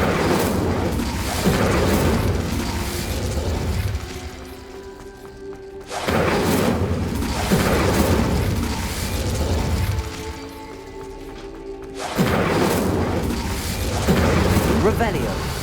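Incendio fire spells cast in Hogwarts Legacy burst out as loud, roaring blasts in repeated bursts, each a few seconds long, separated by quieter rumbling game ambience.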